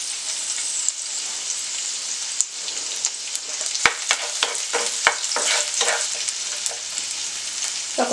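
Garlic, ginger and green chili sizzle in hot oil for a methi omelette, a steady loud frying hiss broken by crackling pops and the scrape of stirring, with no talk.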